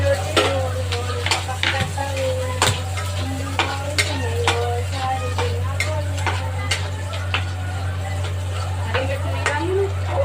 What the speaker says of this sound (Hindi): तो तेल गर्म हो गया था, उसके बाद दीक्षा ने ना प्याज डाल दिया था।